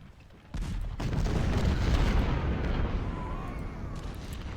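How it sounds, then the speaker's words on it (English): Gunfire against artillery in the Ultimate General Civil War game: a sudden booming burst of massed fire swells into a loud rolling rumble that lingers and slowly fades, with no talking over it. "Let's go ahead and fire on that artillery"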